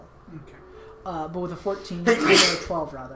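One sharp sneeze bursts out in the middle of conversation during a tabletop game session, loud and close, with people speaking just before and after it.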